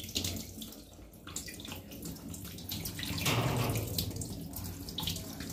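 Tap water runs steadily into a sink as fish and hands are washed, a continuous close splashing flow that swells slightly in the middle.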